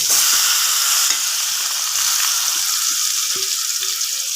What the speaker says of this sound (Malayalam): സോയ മിക്സ് ചെയ്ത് പുരട്ടിയൊക്കെ വെച്ചിരുന്ന സോയ ഇതിലേക്ക് ഇട്ട് കൊടുക്കാം